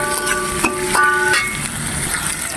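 Onion and garlic fry in a pan for a spicy meat dish, a close sizzle broken by a few sharp clinks of a utensil against the pan, with a faint tonal beep in the background.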